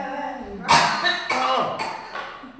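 A woman in a church congregation coughs during a sermon, with a few loud, close, raspy bursts in quick succession.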